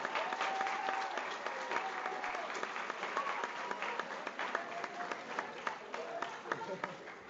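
Clapping from a crowd at a Pro Football Hall of Fame event for Hall of Famer Alan Page, a steady, fairly distant patter of many hands with faint voices and whistles mixed in.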